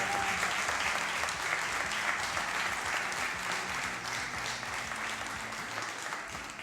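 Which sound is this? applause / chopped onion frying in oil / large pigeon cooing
applause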